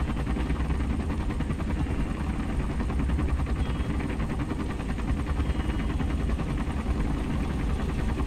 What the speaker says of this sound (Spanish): Que no crean, esta cantidad de helicópteros había en Vietnam.